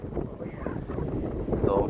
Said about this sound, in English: it's a bit windy, eh?